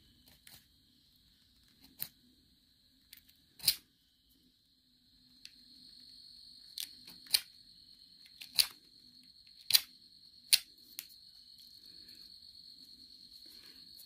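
Sharp stone flake being trimmed for a walking stick, a series of crisp, scattered scraping clicks at close range over a steady cricket chirp outdoors.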